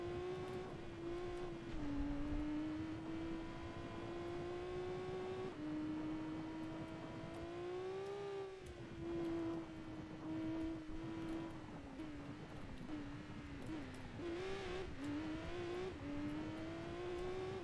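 A race car engine in Gran Turismo 2 holds a steady high whine, rising and dipping as the throttle is pumped around the track, with brief lifts and re-accelerations and no talking.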